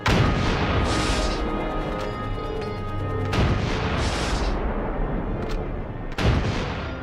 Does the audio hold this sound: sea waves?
no